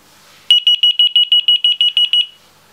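A CITTATREND key finder locator gives a rapid run of about twelve sharp, loud, high-pitched beeps in even rhythm, alone against quiet background.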